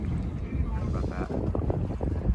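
A sailboat under sail in wind on a river, with steady rushing wind and water noise buffeting the microphone close up while a person speaks.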